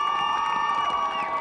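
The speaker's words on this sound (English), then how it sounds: "How about a big round of applause for our League and Sectional Championship squad" Crowd cheering and applause for a championship girls' soccer team at a high school football playoff game, a steady, dense roar of voices and clapping lasting throughout, with a sustained whistle-like tone running through it.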